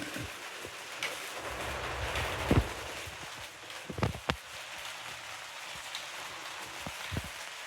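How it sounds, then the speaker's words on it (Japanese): Rain falling on a small lightweight house on a kei truck bed, a steady soft hiss broken by several sharp drips and knocks on the roof, some close and fairly loud. "到着した翌日に雨が降ってきたんで、降ってるか見てみます。"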